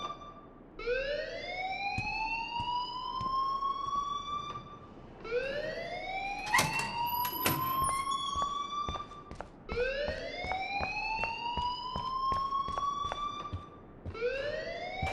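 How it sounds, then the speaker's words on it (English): The fire alarm in Life is Strange wails in repeated rising siren sweeps, a loud cycling tone that restarts every few seconds, overlaid with scattered clatter and faint background bustle. "please turn off that alarm since that's your job"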